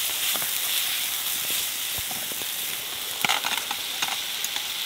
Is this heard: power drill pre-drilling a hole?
no